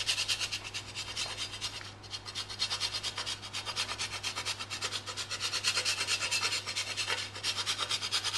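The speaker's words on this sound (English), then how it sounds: "we're just going to grate over a bit more parmesan." Parmesan cheese is grated over a layered baked pasta dish of tagliatelle and tomato sauce, a steady, rhythmic scraping of quick strokes close by, with no talk.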